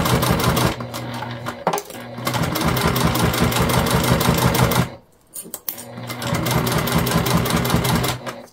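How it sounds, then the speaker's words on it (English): A sewing machine runs in fast, steady bursts as it stitches clear jelly vinyl pieces of a hip bag along the seam, pausing briefly midway before resuming, close and loud with no talking. "we're gonna sew these together following the seam allowance in the pattern"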